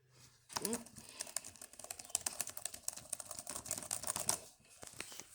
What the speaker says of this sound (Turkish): H'le Y'ye basıyorum